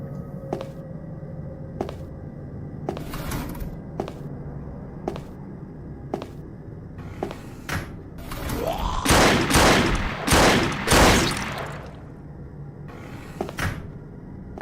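Gunfire from a first-person shooter in an indie game demo: a steady series of single sharp shots at regular intervals, followed by a louder burst of heavier blasts and a few more trailing shots, all without talk.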